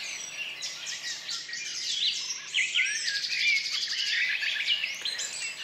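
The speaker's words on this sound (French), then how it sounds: "Le chant des oiseaux." Several birds sing and chirp outdoors, a dense overlapping chorus of bright, rapid trills and tweets at moderate volume, continuous with no voices.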